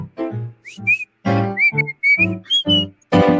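A person whistles a tune in short, bright, sliding notes interleaved with louder singing, close and clear.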